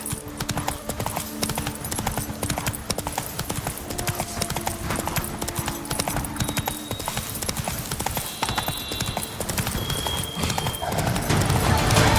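Geralt's horse gallops in The Witcher 3: Wild Hunt, its hooves drumming a quick, steady clip-clop that runs the whole way, with faint tonal game sounds beneath.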